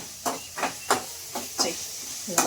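Onions frying in oil, with a series of about seven rhythmic hissing scrapes of stirring spaced roughly every third of a second over a steady low sizzle, close by.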